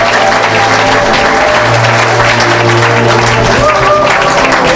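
A church congregation claps steadily for Jesus, dense continuous applause filling the room at high level, with a sustained tone beneath it.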